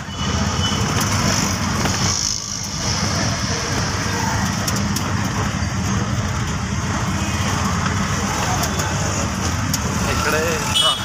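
Steady, loud road traffic and engine drone heard from inside a moving bus travelling from Thane toward Dapoli in evening traffic, a continuous rumble with passing vehicle noise.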